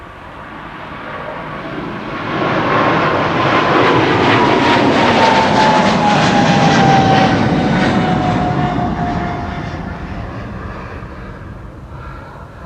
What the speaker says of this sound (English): And this is Singapore Airlines 323 to Singapore. It is a 777-300ER